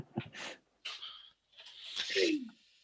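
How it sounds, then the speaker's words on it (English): A few snorting, sneeze-like bursts come close and breathy, spaced irregularly, with a final stronger sneeze trailing off. "I sneeze when I'm frustrated."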